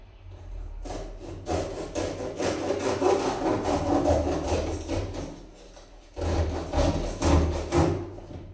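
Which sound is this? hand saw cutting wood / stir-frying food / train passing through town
hand saw cutting wood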